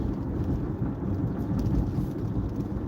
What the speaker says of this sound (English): we're starting to get a little bit of rain